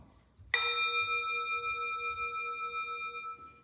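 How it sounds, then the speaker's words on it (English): A single gong strike sets off a sustained, ringing metallic tone with layered overtones. It is clear and alone, and it decays slowly over several seconds. "instruments like this, a gong, or any things are producing vibration"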